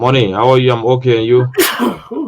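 A single sharp sneeze bursts out right after a brief spoken exchange of greetings on a talk-radio call-in show, close and loud, followed by a bit more voice.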